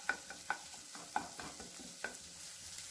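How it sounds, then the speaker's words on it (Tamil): Sautéed vegetables are stirred in a frying pan for a quick breakfast dish, the spatula scraping and clicking against the pan in irregular close strokes over a low sizzle, with no talking. "இப்போ இது நல்லா வதங்கினதுக்கப்புறமா காய் கூட சேர்த்து நம்ம இதை நல்லா கலந்துடலாம்"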